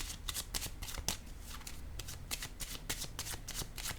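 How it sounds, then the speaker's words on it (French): Playing cards handled on a table during a card reading: rapid, close riffling and flicking of cards in quick rhythmic bursts, with no speech. "Je vais déposer une carte ici."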